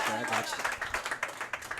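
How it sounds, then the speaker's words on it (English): Audience applause for a linebacker on a college coaches' show, a short burst of steady clapping that begins under a voice and fades quickly. "Big round of applause for the linebacker."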